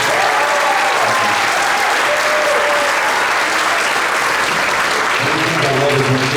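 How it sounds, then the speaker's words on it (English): An audience at a middle school band concert gives the seventh grade band a sustained round of applause, a dense, even roar of clapping that fills the whole stretch, with a voice briefly heard near the end. "One more big round of applause for the 7th grade band."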